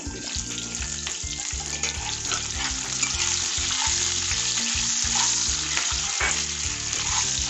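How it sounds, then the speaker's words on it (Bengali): Capsicum frying in a hot pan for paneer, a steady loud sizzle with rhythmic stirring scrapes throughout and no talking. "একটু এটা ভাজা হোক"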